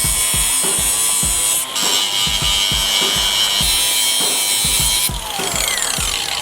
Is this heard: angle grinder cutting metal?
yes